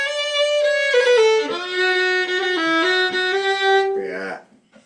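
Fiddle playing a slow, lyrical tune in D, a single bowed melody line with sustained, gently sliding notes, close and clear for several phrases before fading out.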